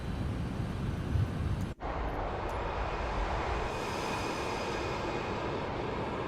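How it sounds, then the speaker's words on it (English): An MD-11 airliner in a TFDi flight simulator game rolls down the runway for takeoff, a steady broad engine roar and rumble with one brief dropout early on and no talking. "so this is takeoff roll"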